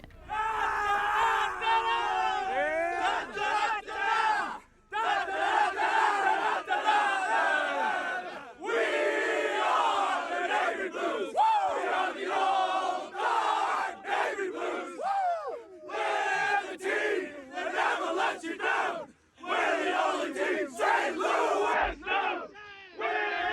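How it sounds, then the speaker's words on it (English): Players from St. Louis's Australian football team loudly sing their club song together after a win, a rowdy group chant with shouts and whoops, continuing in bursts with short breaks for over twenty seconds. "that is the club song of St. Louis's Australian football team"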